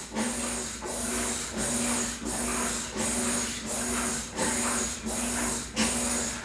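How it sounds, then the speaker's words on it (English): A washing machine runs in a steady cycle, with loud hissing surges that repeat about every three quarters of a second over a constant low hum. Nobody speaks. "But it's the washing machine I'm hearing."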